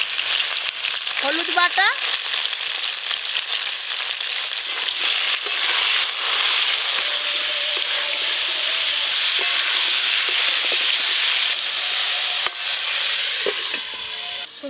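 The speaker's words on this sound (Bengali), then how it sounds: "তেল ভালো করে গরম হয়ে গেল, আলু ফুলকপি একসঙ্গেই ভেজে নেব।" Potatoes and cauliflower pieces fry together in hot oil, giving a loud, steady crackling sizzle that fills the whole stretch, with a few stirring scrapes. Brief speech rises through it near the start.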